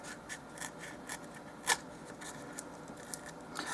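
Cutting the corners of a dollhouse miniature stone fireplace, a series of faint, quiet snips and scrapes spaced irregularly, one sharper cut standing out midway, with no talk.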